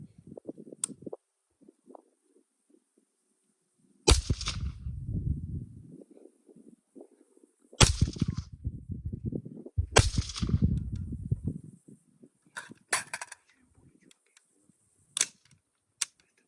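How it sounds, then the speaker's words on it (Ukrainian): Several sharp rifle shots from an AR-15 in 5.56 NATO fitted with a suppressor crack at irregular intervals, each followed by a brief echoing tail, with faint mechanical clicks between them. "Тепер зробимо декілька пострілів, щоб подивитись, наскільки він ефективний."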